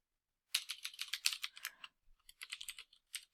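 Python code is typed on a computer keyboard in quick, faint keystroke clatter, with a short pause midway before the tapping resumes. No voices.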